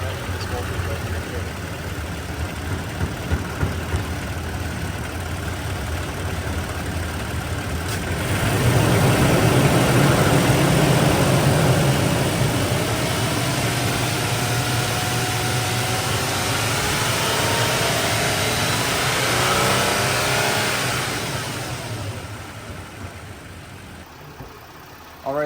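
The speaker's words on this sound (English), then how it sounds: "I'm gonna go press on the throttle, and let's see what happens." Toyota Tacoma engine idling steadily, then rising into a sustained rev as the throttle is pressed, holding high for several seconds before easing back toward idle; a continuous close engine drone.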